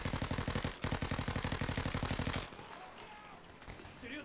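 Rapid automatic gunfire from Battlefield 5's Pacific setting fires in a steady loud burst for about two and a half seconds, then cuts off into a quieter mix of distant shots and battle noise.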